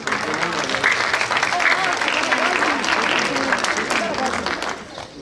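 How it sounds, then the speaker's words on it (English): A crowd at a birth celebration event for Imam Mahdi gives a raffle winner a full round of applause: loud, continuous clapping with some crowd murmur mixed in, sustained throughout. "let's give her a round of applause"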